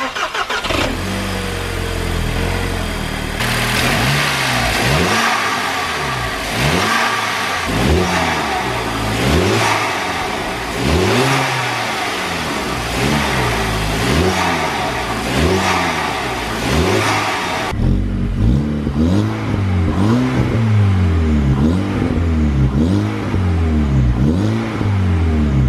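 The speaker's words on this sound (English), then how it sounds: "I'm gonna get the car turned on, see what this intake sounds like." A VW Golf GTI with a TFSI engine and a Forge carbon intake revs repeatedly in a steady rhythm of rising and falling pulls, each swell loud and close, with no talking over it.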